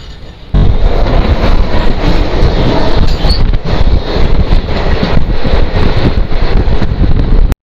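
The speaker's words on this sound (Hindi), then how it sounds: "तो भाई साहब अपनी ट्रेन की अराइवल हो रही है जहानाबाद रेलवे स्टेशन पे" Kosi Super Express pulling into Jehanabad railway station, a loud continuous rumble of wheels and carriages with wind buffeting the microphone, steady for several seconds before cutting off abruptly.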